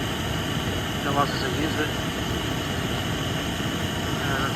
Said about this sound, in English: just use the little gas stove.